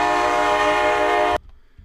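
A custom locomotive horn from the Run 8 train simulator game blares loud and steady with a rich chord of tones, then cuts off abruptly after just over a second, leaving near silence.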